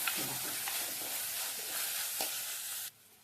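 Crushed small shallots fry in hot oil for a Kerala-style seer fish curry, a soft continuous sizzle with a few light stirring scrapes, then cutting off abruptly near the end.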